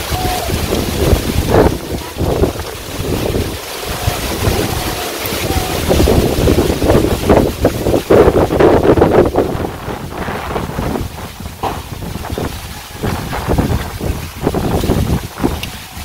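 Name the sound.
wind blowing in the fields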